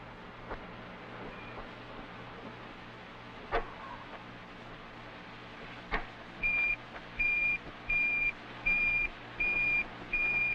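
Wire photo machine sending a picture, a steady low hum with a few clicks, then a regular series of evenly spaced high beeping tones pulsing about once per second.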